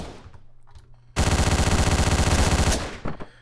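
Rapid automatic gunfire in the top-down shooter Hotline Miami erupts as one loud, dense burst lasting about a second and a half, then cuts off abruptly into quieter game sounds.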